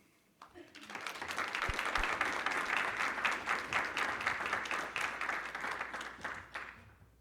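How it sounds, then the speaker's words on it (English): After a brief quiet start, a competition audience claps for undergraduate finalists, a full, steady round of applause from many people that holds through to the end. "we'll give them a big round of applause"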